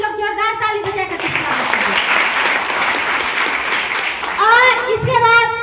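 A crowd at a women's business meeting gives loud, sustained applause for several seconds, with a voice speaking before the clapping starts and again after it fades.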